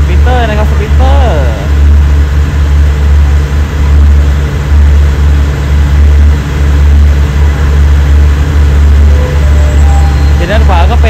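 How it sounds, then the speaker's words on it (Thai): SRT Sprinter diesel railcar running as a rapid train pulling into Bangkok station in the evening: a loud, steady low diesel engine drone with rumble, and someone talking over it throughout. "รถเร็วขบวนที่998บ้านภูตาหลวงกรุงเทพกำลังเข้าสู่สถานีกรุงเทพเวลา 19:10 นาทีครับสปีดเตอร์นะครับ"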